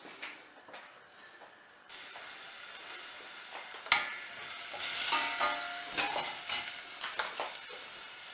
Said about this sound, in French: Je vais ensuite faire revenir mes oignons, les faire dorer avec de l'huile d'olive.